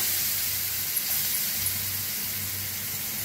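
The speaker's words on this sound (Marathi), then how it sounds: "मोहरी बघा चांगली तडतडायला आल्या" Mustard seeds crackle in hot oil during tempering for a vada pav filling, a steady bright sizzling hiss that holds evenly throughout, close and alone with no talk.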